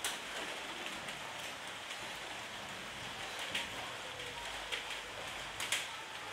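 Steady rain falls and patters on surfaces, soft and continuous, with a few louder drops now and then.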